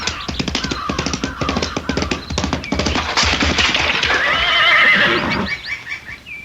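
Horse neighing and whinnying amid galloping hoofbeats in an old-time radio mystery drama scene of a woman spurring her horse toward a high stone wall; loud, busy clatter of hooves under a rising, shrill whinny near the end.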